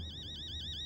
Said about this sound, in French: Oh, alarme incendie.